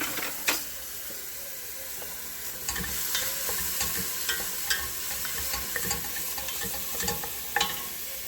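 Onions sauté in a pan with a quiet, steady sizzle and occasional spatula scrapes and taps, close and continuous with no voices.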